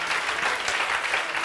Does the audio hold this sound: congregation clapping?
yes